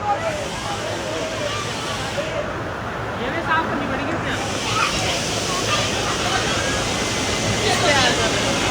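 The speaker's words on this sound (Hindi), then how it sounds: "तो गाइस अब हम लोग हैं भट्टा वाटरफॉल्स में" Bhatta waterfall near Mussoorie gives a constant, close rushing roar of falling water that fills the whole stretch without a break.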